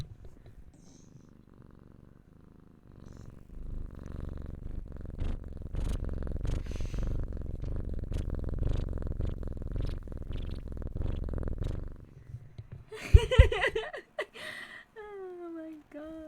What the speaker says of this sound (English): Can you hear him purring?